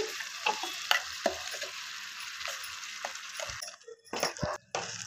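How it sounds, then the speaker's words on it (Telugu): Chicken cooks in a pan with a paste of onion, tomato, dried coconut and sesame, stirred with repeated scraping and clinking strokes over a steady sizzle, then a brief pause and more stirring. "పేస్ట్ వేసి చికెన్ మొత్తము ఇట్లాగా బాగా కలుపుకోవాలి."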